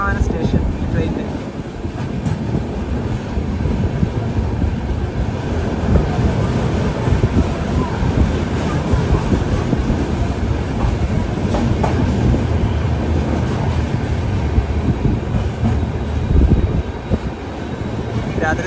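Jan Shatabdi Express rolling toward KSR Bengaluru City station at night, a steady loud rumble with rhythmic clickety-clack of wheels on rail joints, with people talking faintly inside the carriage.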